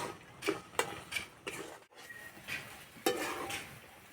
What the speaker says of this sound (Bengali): এইভাবে নাড়তে নাড়তে একটা শুকনো শুকনো ভাব হয়ে যাবে রসটা সব মরে যাবে